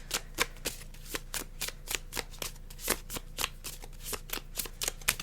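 Tarot cards being shuffled and drawn from a deck during a pick-a-card reading: a steady run of quick, crisp riffling flicks, close and clear, with no talking.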